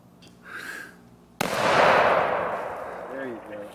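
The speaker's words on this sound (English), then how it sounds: "Need to grab a slug and shoot it." A single loud shotgun blast firing a slug cracks out sharply and rolls away in a long outdoor echo, with brief voices before and after.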